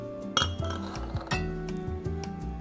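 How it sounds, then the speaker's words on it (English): A martini glass clinks and taps against bar tools during cocktail preparation, with several bright, close chinks over a soft musical background. "Don't forget your martini glass."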